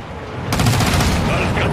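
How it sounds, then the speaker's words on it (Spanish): Rapid burst of gunfire from a shootout in the video game Call of Duty: Modern Warfare 2, breaking in suddenly after a brief quieter moment and continuing as a dense rattling volley. "¡Esto fue el tiroteo!"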